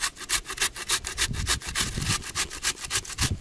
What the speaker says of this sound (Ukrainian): Натираємо грушку прямо в горох.